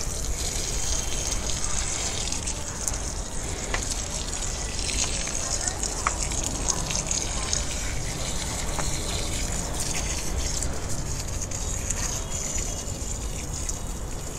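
Water gushes steadily into a drum used for watering plants, a constant broadband rushing and splashing that holds at an even level throughout.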